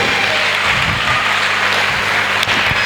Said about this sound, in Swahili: Naomba tumpigie Yesu makofi.